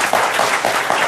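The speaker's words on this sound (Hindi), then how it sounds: "तालियां" Loud, dense applause from a crowd, many hands clapping at once in a continuous roar, close and steady throughout.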